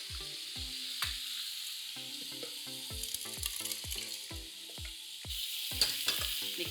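Dal and peanuts go into a pan of palak, which sizzles and fries with a steady hiss under repeated clinks and scrapes of a spoon stirring against the pan, with no talking.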